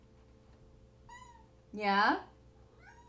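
A kitten indoors gives one loud, drawn-out meow in the middle, framed by a softer chirp before and after, with a person's brief voice nearby.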